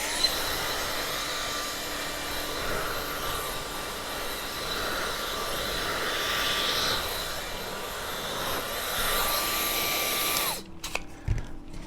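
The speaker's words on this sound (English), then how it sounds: "I think I might have a new blow dryer." A lightweight, quiet hair dryer blowing through a directional nozzle, a steady airy whoosh with a faint motor whine held constant, then switched off near the end.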